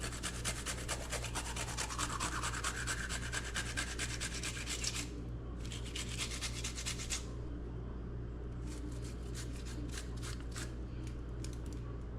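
Hands rub seasoning into snapper being prepared Jamaican style, a steady close rasping scrub that runs in rapid repeated strokes, pausing briefly and then resuming in shorter bursts.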